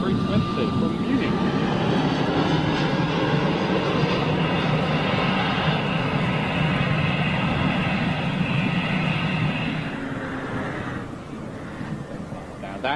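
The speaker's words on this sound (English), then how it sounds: "That's Lufthansa 320 from Munich." A Lufthansa Airbus A320 jet from Munich, heard from home as a loud, sustained engine roar that holds steady, then fades and thins toward the end.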